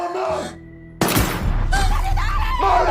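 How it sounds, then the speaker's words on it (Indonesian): A sniper's gunshot kills a woman in a film scene: a sudden loud bang after a tense, quieter moment, followed by sustained noisy commotion and strained voices. "membuat wanita itu tewas tertembak oleh si sniper"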